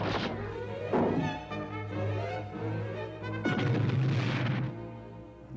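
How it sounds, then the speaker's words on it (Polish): A cartoon catapult fires with a heavy booming launch, followed a few seconds later by a second loud crashing impact, with a rumbling tail after each. "Katapulta gotowa do strzału."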